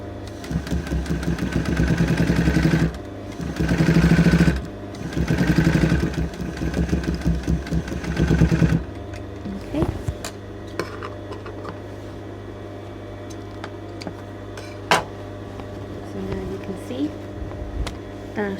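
A sewing machine motor hums steadily up close for several seconds while stitching down dress boning, then stops, leaving quieter handling clicks and rustles of fabric.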